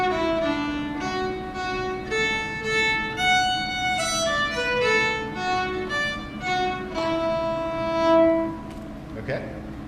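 Fiddle playing the opening of a Suzuki piece, a steady melodic line of clear sustained bowed notes moving stepwise, close and prominent over faint room noise.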